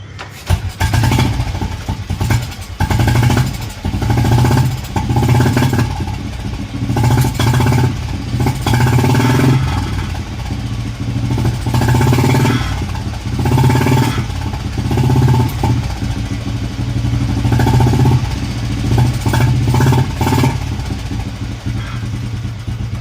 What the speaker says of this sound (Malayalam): അടുത്ത് നമുക്ക് പെട്രോൾ ബുള്ളറ്റിൻ്റെ ശബ്ദം നോക്കാം.